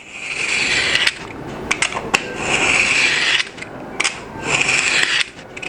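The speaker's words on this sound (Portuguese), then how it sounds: "aqui nós vamos cortar então um filete de 6 milímetros" A 6 mm marquetry veneer strip being cut by hand produces close, rasping scrape strokes in several bursts with short pauses between them, and no one speaks.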